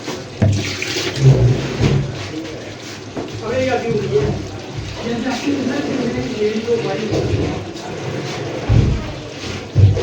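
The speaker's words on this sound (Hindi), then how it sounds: "अभी आलू और पुदीना डाल के पानी डाल देंगे" Water splashes and pours into a cooking pot of potatoes and mint, a continuous gurgling stream close by, with cooking clatter around it.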